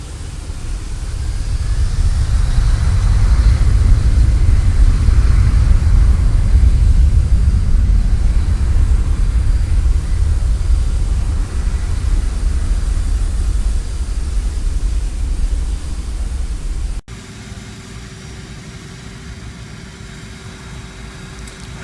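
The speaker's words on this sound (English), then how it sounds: "You'll hear some general ramp sounds." Airport ramp ambience from a CRJ200 flight simulator soundpack: a loud, steady roar of engine and air noise that swells early, holds, then drops abruptly to a quieter, thinner hum near the end.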